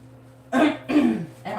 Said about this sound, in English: I was trying to clear my throat chakra.